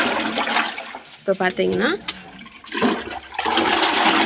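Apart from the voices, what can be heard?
water being poured into a container to dilute fertilizer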